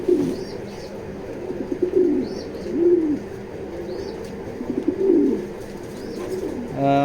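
A racing pigeon hen coos in repeated soft, rolling phrases, about four bouts spaced evenly, close by over a faint background hum.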